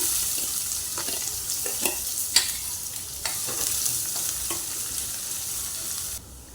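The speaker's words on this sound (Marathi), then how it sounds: "थोडंसं जिरं टाकून घेते आहे कढीपत्ता टाकूया लसूण टाकूया आता याच्यामध्ये कांदा घालून घेऊया" Onion sizzles in a pan with mustard seeds, cumin, curry leaves and garlic, making a constant close frying hiss punctuated by several scraping stirs, with no voices.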